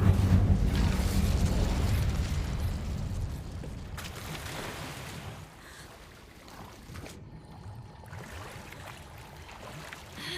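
Incendio fire spell cast in a cave in Hogwarts Legacy, a loud, sustained roaring whoosh of flame with a deep rumble that gradually eases off over about ten seconds.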